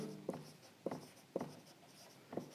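Chalk writing on a board during a maths class, four short scratchy strokes in a loose rhythm, close and quiet with no talk.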